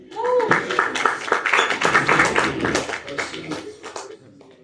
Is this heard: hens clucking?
no